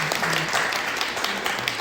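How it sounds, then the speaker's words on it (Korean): Applause from the audience at a Korean planning presentation for a pop-up neighborhood playground, a steady dense patter of clapping lasting about two seconds with faint voices beneath. "다시 한번 큰 격려의 박수를 한번 드리면 좋겠습니다"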